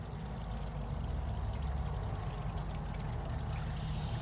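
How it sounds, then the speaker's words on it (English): Pre-diluted coolant pours into the radiator of a Geo car with a steady, gurgling stream. The flow is continuous and fairly quiet, close by, with no talking heard. "I'm just going to put a bunch of coolant in there"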